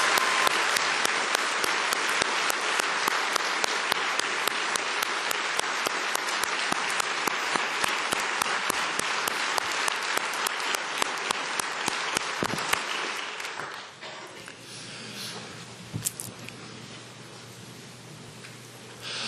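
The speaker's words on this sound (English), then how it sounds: "Let's give them another round of applause" A large audience at a Nevada State of the State address applauds newly elected legislative women, dense sustained clapping that carries loud for about thirteen seconds before thinning into scattered claps.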